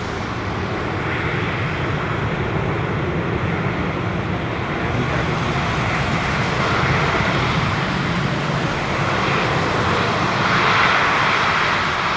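The engines of an Etihad airliner in its special livery at London Heathrow on a wet day, a steady, loud jet roar that fills the scene and slowly builds toward the end, with faint traffic-like rumble beneath.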